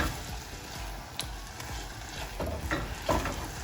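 A fig, date and walnut mixture cooks in oil while being stirred, giving a soft continuous sizzle with a few scraping strokes of the spoon against the pan.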